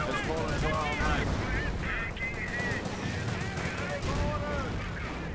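A Panther tank and surrounding gunfire in the World War II strategy game Company of Heroes, steady rumbling battle noise with repeated shots and whistling effects throughout, under a commentator's voice.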